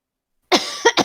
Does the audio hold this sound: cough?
yes